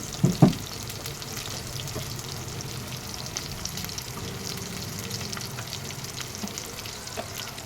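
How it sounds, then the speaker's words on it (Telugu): Onion fries in hot oil for a Sunday fish curry, a steady close sizzle running throughout, opening with a couple of sharp clanks of a utensil against the pan, and no one speaking. "బాగా వేగితేనే బాగుంటుందండి ఉల్లిపాయ పచ్చిగా ఉంటే బాగోదండి"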